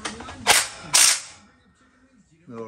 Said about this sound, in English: Little rat-tat-tat of the gun.